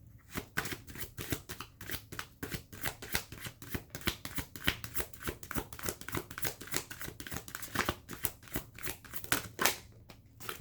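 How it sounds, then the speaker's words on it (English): A deck of tarot cards is shuffled by hand during a reading, giving a long run of quick, crisp riffling bursts in an irregular rhythm, close and fairly quiet, with no talking. "let's go ahead and shuffle one more time"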